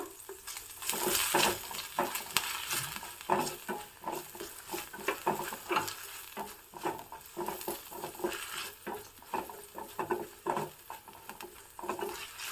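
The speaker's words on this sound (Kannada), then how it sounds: "ಇದು ಬೆಣ್ಣೆಯಲ್ಲೇ ಚೆನ್ನಾಗಿ ಹುರಿಬೇಕು" Finely chopped spring onion whites frying in butter in a pan, with soft sizzling under repeated stirring scrapes and utensil clinks against the pot, fairly quiet and close.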